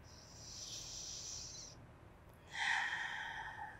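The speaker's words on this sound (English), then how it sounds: "just breathing in and breathing out" A slow breath in and then out during a gentle Pilates practice, soft airy breathing heard close and quiet, with a brief pause between the two breaths.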